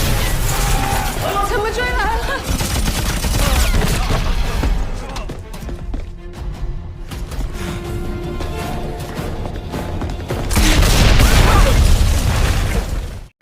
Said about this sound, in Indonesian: aksi tembak-tembakan kembali terjadi di kantor polisi